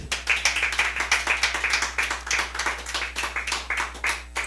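A church congregation claps along during a Christian sermon, a dense run of sharp hand claps close by that keeps a steady, slightly rhythmic pace throughout with no talk over it.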